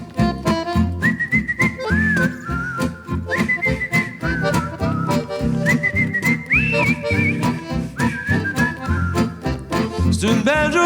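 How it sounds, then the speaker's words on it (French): Someone whistles a bright, lilting melody over a backing track with bass and drums, the tune rising in repeated phrases and sustained notes, loud and close. "les clients dans la file d'attente m'entendent siffler cette mélodie."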